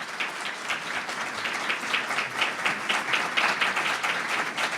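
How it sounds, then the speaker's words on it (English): Audience at a Peekskill mayoral candidates forum applauds both candidates together, a steady, dense wash of many hands clapping that holds even and loud for the whole stretch, with no talking over it. "now you may applaud for both candidates"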